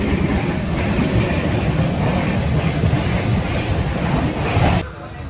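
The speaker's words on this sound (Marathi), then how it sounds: "local train" Loud, steady rumble and rattle from inside the Ratnagiri–Diva local passenger train as it moves along, then the roar suddenly drops off near the end.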